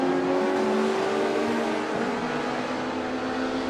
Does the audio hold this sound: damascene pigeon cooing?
no